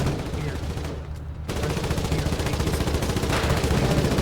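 Dense gunfire from the Foxhole video game battle, with rapid automatic bursts and shots running almost continuously, loud and close, with a brief lull near the start.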